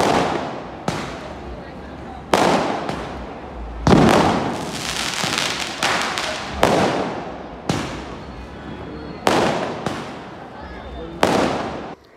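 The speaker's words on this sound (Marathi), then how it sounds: "खूप सारे फटाके फोडले" Diwali firecrackers burst outdoors in a string of sharp, loud bangs spaced a second or two apart, each one trailing off into a crackling fizz, with voices heard faintly between the blasts.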